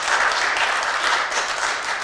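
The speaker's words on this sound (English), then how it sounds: "Let's give them another big round of applause." Pageant contestants at a scholarship pageant during an irrigation festival get a round of applause from the audience, a dense, steady wash of many hands clapping with no speech over it.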